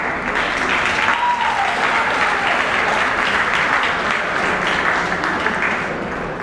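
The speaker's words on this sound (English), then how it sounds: "give them a big round of applause" A hall audience at an Olympic spirit event applauds, a dense, even wash of many hands clapping that holds steady throughout, filling the room without any voices over it.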